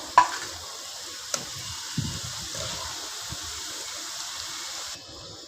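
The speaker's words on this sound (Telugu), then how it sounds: "ఈ విధంగా అయితే ఫ్రై చేసుకోవాలా" Small cut pieces for samosa filling frying in hot oil in a pan, giving a steady soft sizzle with a few faint clinks and stirring scrapes near the start, no voices.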